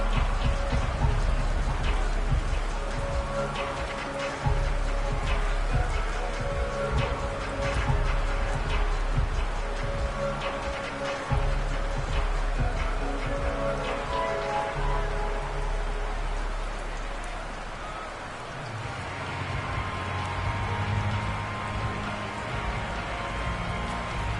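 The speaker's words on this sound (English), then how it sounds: "The rain set to continue as we are underway in the second half." Steady rain hisses continuously over an outdoor NFL football game in the second half, Packers at Bills, a broad wash of noise with crowd and commentators' voices faintly underneath.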